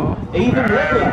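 A small sheep bleats at a fibre and wool show, its wavering cries rising under a person speaking close by.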